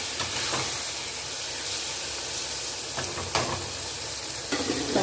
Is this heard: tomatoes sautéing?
yes